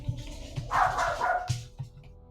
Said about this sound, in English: I think my dog is barking at the Amazon Prime delivery person